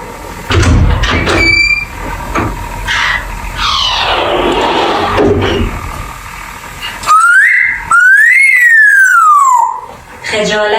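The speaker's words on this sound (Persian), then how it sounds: "تا من از همون میام بیرون برم سوت میکشی" African grey parrot whistling in a home: scattered chirps and squawks give way to a loud, clear whistled tone that rises and then glides down. A person speaks at points over the bird.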